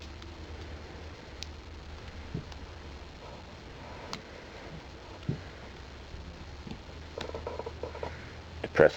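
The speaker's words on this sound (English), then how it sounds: "you take your mainspring guide rod, which is quite good steel, and you lever it in there" Steel mainspring guide rod levering parts of a Ruger GP100 revolver's trigger group, a quiet run of small metallic clicks and ticks scattered across the clip, close, with no talking.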